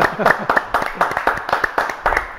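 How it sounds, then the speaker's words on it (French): A few people clap in the GLPP live corner, scattered uneven claps rising and falling for a couple of seconds, with speech-like sounds mixed in. "On l'applaudit, non?"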